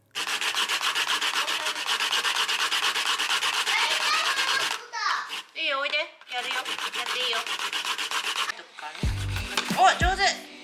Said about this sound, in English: Just pressing fried tofu as much as possible to let the kitchen towel absorb all the excess oil